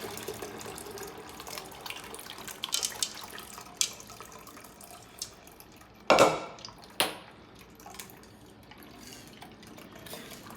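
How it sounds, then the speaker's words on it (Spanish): Tamarind juice is strained from a pot into a jug, with soft pouring, trickling and dripping, scattered clinks of the pot and utensils, and a louder splash and clatter midway, close and fairly quiet with no talking. "continuamos con el resto de la olla hasta que ya hayamos terminado de colarlo"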